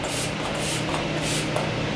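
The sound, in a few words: makeup spray sprayed on client's face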